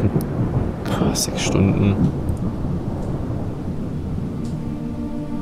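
A thunderstorm in the video game Project Zomboid, with a heavy rumble of thunder rolling through over steady rain, while someone speaks briefly.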